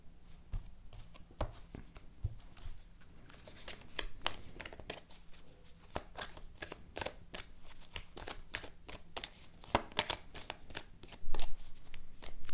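A deck of cards being shuffled and cut, with repeated crisp riffles and flicks that come in irregular bursts, close and fairly quiet, with no talk.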